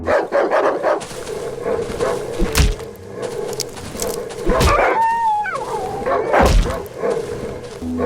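Several rabid wild dogs in the video game Darkwood bark and yelp in sharp bursts over a low droning ambience, with a few whining, high cries in between.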